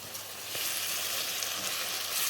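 Blended spice paste for a Manado-style woku dish with red snapper frying in a pan, a steady bright sizzle that grows louder after the first half second, with no talk.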